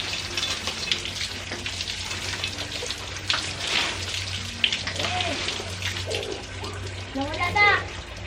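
Water splashes and gushes from a hand pump on a farm, an irregular watery rush with pumping surges, while children and adults talk and call out over it.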